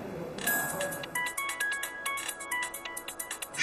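A phone rings with an incoming call from the city police bureau, its electronic ringtone repeating in a quick, steady pulse of bright tones, fairly close and clear over a quiet indoor background.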